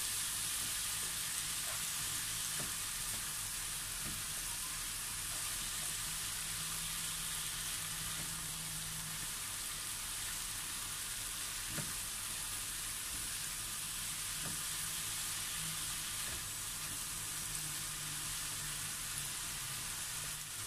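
String beans adobo sizzles steadily in a pan, a constant broadband hiss with faint occasional scrapes of stirring, fairly quiet and unbroken, no voices.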